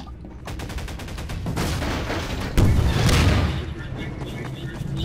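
Rapid bursts of gunfire in a Garry's Mod multiplayer match, sharp cracks and booms repeating densely with a louder volley in the middle, while players talk over the shooting.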